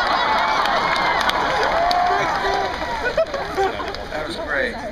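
A large crowd at a rally roars with sustained cheering, shouts and whistles, loud and continuous at first, then thinning into scattered yells and chatter toward the end.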